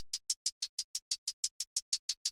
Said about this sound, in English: Then the last thing I want to go through is this hi-hat loop.